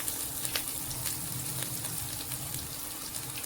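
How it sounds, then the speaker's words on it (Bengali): Chopped garlic, ginger and onion fry in hot oil in a pan, a dense continuous sizzle heard up close with faint stirring clicks and no talking. "তো রসুনটা অল্প ভেজে নেব। এবারে দিয়ে দেব আদা কুচি, দিয়ে দেব পেঁয়াজ কুচি।"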